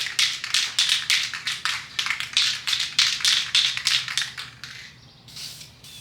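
Paint sprayed onto an S-curve car part in short rhythmic bursts, about a dozen close hissing passes with brief gaps, then a quieter trailing spray, alone without talk.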